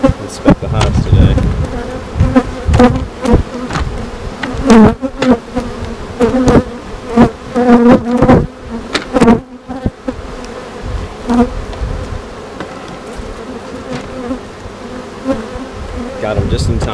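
Honeybees swarm loudly around open hives during an inspection, a dense continuous buzz close to the microphone, broken by frequent knocks and handling thumps from the hive boxes.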